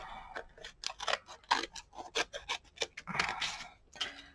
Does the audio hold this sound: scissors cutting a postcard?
yes